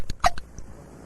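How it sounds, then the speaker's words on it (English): A cartoon character hiccups, a few short sharp voiced hics in quick succession, loudest in the middle, followed by quiet room tone. "This is the worst case of hiccups we've ever treated."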